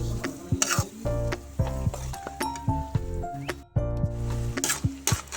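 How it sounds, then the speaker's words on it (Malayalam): Chopped green chillies drop into a hot pan for a prawn pickle and get stirred, giving a steady close sizzle of frying broken by scraping spoon strokes and a few metallic clinks against the pan. "അത് നമുക്ക് അരിഞ്ഞിട്ട് അങ്ങ് ഇട്ട് കൊടുക്കാം. ഒന്ന് ഇളക്കി കൊടുക്കാം."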